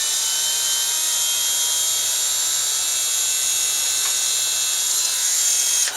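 A cordless drill drives a screw into a plastic drywall anchor with a continuous high, whining buzz, close and fairly loud, holding steady for several seconds.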